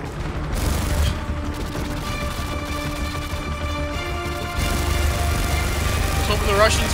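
Gunfire in the Modern Warfare 2 video game: a steady wash of combat noise with rapid shots and mechanical clatter running continuously, mixed with tonal game sounds and voices talking over it.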